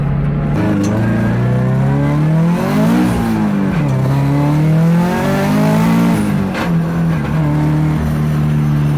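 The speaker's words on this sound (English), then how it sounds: "Car's pulling hard under wide open throttle." A turbocharged Scion FR-S with a titanium straight-pipe exhaust roars loudly and steadily at wide open throttle, its pitch climbing and dipping through gear shifts, close and continuous with no talking.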